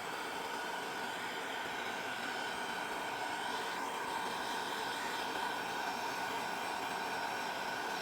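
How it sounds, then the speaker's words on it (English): A heat gun runs on an iPhone 6S while it warms the screen to loosen the glue, giving a steady, even rushing hiss of blown air that stays constant and fairly loud for the whole stretch with no talk. "So switch it off and then use a heat gun."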